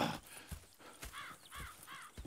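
Horses in Red Dead Redemption 2 clop their hooves in a quiet, irregular rhythm, with a few soft snorts and brief higher calls mixed in, all faint.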